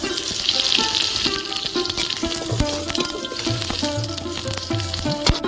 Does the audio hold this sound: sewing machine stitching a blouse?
no